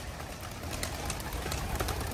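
Racing pigeons startled at a race release, a continuous rush of fluttering wings and faint cooing over outdoor background noise, steady across the whole moment.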